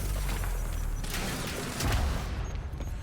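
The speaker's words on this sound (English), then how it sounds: "I completely forgot I have an explosion." A game explosion in Quantum Break, a dense, loud rumbling blast with crackling debris and mechanical clatter, booming deeper near the end before fading, with no talk over it.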